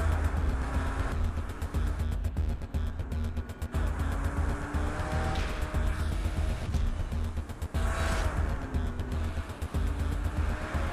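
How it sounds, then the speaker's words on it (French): Race car engines in Project CARS 2 whine and roar continuously, pitch rising and falling through gear shifts, with a steady mechanical drone throughout and no talking. "Rien que pour le son des voitures."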